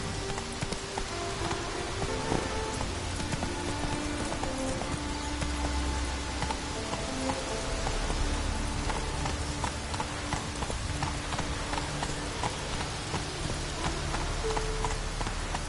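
Horse hooves clip-clopping steadily at a trot through rain in The Witcher 3, a continuous rhythmic clatter over a constant wash of rainfall, close and moderately loud.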